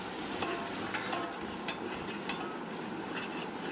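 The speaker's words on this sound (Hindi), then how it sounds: "अब इस मसाले को बहुत अच्छी तरह से भूनना है।" A green chilli paste masala for Mumbai-style mutton pulao is fried and stirred in a pan, making a continuous low sizzle dotted with light scraping taps.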